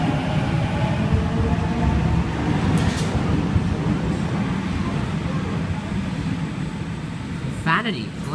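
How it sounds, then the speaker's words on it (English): Commuter train at Green Square station in Sydney, a steady loud rumble of rolling wheels and engine drone filling the platform, with a brief squeal near the end. "We're at a train station."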